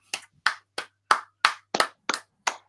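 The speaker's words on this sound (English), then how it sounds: "I'm clapping, Floyd." One person claps hands eight times at a slow, slightly uneven pace, each clap sharp and distinct against near silence, fairly close and moderately loud.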